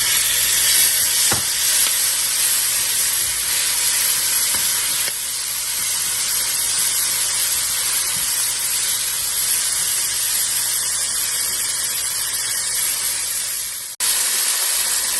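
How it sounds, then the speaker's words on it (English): Vetkoek filling frying in a pan with tomatoes, giving a steady, loud, close sizzle and hiss throughout, with a brief clatter near the end and no voices. "I wait for it to fry for like 2 to 3 minutes."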